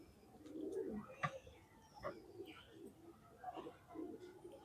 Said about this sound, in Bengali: ওরাই আছে পায়রাগুলো